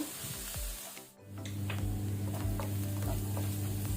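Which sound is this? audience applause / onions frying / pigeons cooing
onions frying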